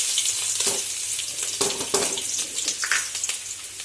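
Sliced onion dropped into hot oil for veg keema, crackling and sizzling loudly with sharp bursts and spattering pops, plus clinks of stirring.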